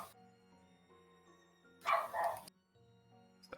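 A dog barks once in a short burst, clear but not loud, against a quiet room with a faint steady background hum and no speech.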